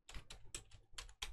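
Computer keyboard typing while writing code, five or six quick close keystrokes in a brisk uneven rhythm with nothing else heard.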